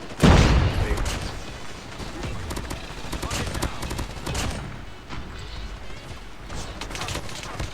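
Rapid automatic gunfire bursts in the Call of Duty Mobile video game, loud and dense at the start, then continuing as fast rattling shots and clicks through the clip.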